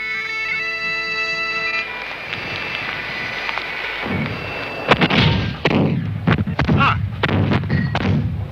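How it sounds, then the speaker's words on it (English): A low tone fades out, then a series of heavy booming cannon shots from the Battle of Culloden follows, irregular and fairly loud, echoing in open air. "The rebel cannon have opened fire."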